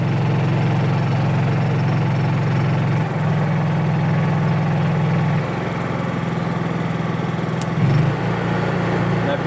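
A Honda EU3000is portable generator idles on eco throttle with a steady low hum, close and constant, its pitch stepping slightly a few times as the load changes.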